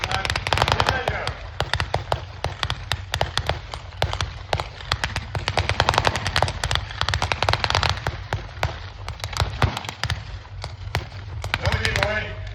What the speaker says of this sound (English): Germans here are using the MP40 submachine pistol.